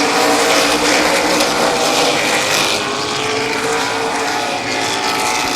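Stock cars race around Midvale Speedway, and a dense, loud roar of engines sweeps past continuously without a break.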